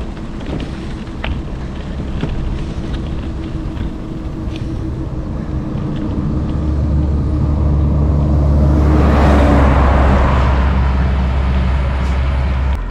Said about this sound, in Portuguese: Tá vindo o caminhão.